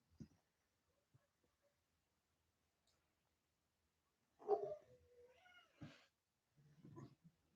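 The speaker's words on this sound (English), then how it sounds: "Our cats are on a schedule, and if we don't keep to their schedule, they let us know." Several house cats meow and caterwaul around dinner time, a few sharp cries bunched in the middle and end of an otherwise quiet room, with faint clicks early on.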